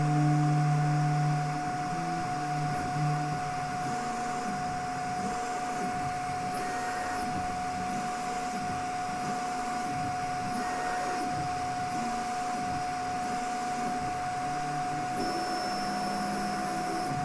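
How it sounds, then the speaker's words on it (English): A Prusa i3 MK3S+ 3D printer runs its bed alignment routine, a steady electronic whine and motor hum with rhythmic stepping pulses, loud and continuous up close. "Because this is a Prusa, it's going to do its magic little bed alignment."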